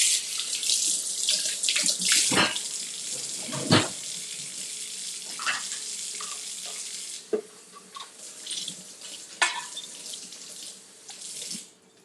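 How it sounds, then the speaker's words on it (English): A shaker bottle with a shaker ball inside, holding chocolate shake residue, is rinsed under a running kitchen tap: steady close splashing water with sloshing bursts, quieter toward the end, no talking. "All right, so I'm just gonna rinse it out."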